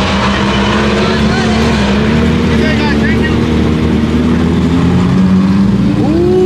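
A Lamborghini Murcielago SV revs at a Cars & Coffee meet, its engine roaring loud and steady throughout with a rising, wavering tone, while people talk nearby.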